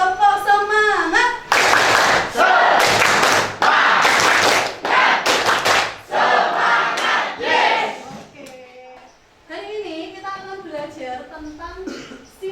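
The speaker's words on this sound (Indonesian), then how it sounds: "1, 2, 3, tepuk semangat." A class of students claps a rhythmic 'tepuk semangat' cheer pattern, loud bursts of patterned clapping and shouting close by, followed by a teacher talking.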